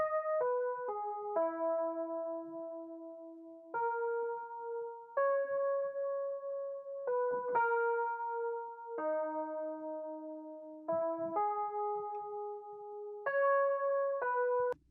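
A dry Rhodes electric piano melody for a smooth R&B beat, heard before any effects, with clear sustained single notes and dyads stepping through a slow phrase, alone and fairly soft.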